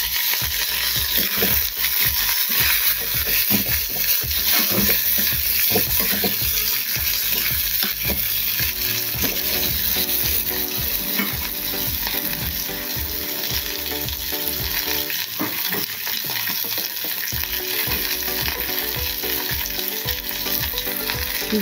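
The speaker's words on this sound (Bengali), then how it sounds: "পেঁয়াজ একটু ভাজা ভাজা হয়েছে" Onions fry in a pan with nigella seeds for a spicy pabda fish curry, a loud, continuous close sizzle broken by frequent scraping and stirring clatter, with no talking.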